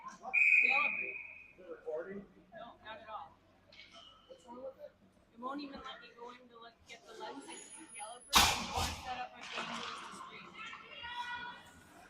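A referee's whistle cuts through a youth hockey game between Minnetonka 15UA and Little Caesars, a single sharp, sustained blast early on, then a brief high tone later amid rink noise, a loud bang and a play-by-play commentator talking throughout.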